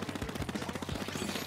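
Rapid automatic fire from the Aerospray MG in Splatoon 2, a fast even rattle of shots running continuously for the full moment, fairly close and loud.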